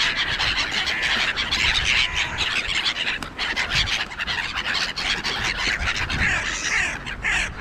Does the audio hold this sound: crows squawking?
yes